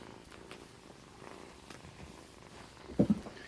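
Kittens purring softly in a low rumble through the stretch, with a brief louder burst near the end.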